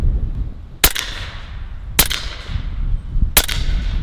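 Three sharp, loud shots ring out from a .30 caliber Western Sidewinder air rifle fired at targets on a windy outdoor range, spaced about a second apart, each followed by a short decay over steady wind noise.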